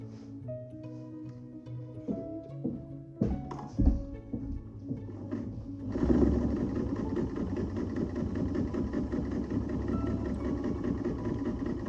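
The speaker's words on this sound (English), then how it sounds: "So at 8 layers, the feed is struggling to keep it straight, but the needle is still penetrating no problem." A Class 15 clone sewing machine modified for heavy marine canvas runs steadily while stitching through eight layers of canvas, with a few thunks as it starts, then a continuous close mechanical hum and rapid needle rattle.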